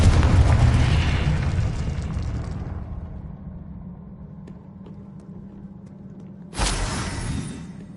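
A Confringo fire spell explodes in the Hogwarts Legacy video game, a loud booming blast that rolls off into a fading rumble, followed by a second sharp burst a few seconds later.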